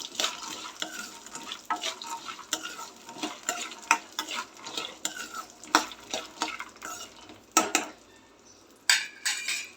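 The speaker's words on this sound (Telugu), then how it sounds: "కొంచెం వేగాక అందులోనే పల్లీలు సిమ్లో పెట్టుకొని దూరగా వేయించుకోవాలి." Peanuts roast with chana dal in a pan over low heat, stirred vigorously so a spoon scrapes and rattles against the metal in quick repeated strokes over a soft sizzle, close and fairly loud, no talking.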